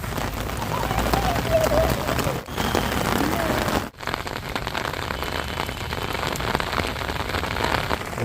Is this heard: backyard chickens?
no